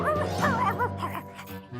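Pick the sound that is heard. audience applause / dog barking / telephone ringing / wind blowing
dog barking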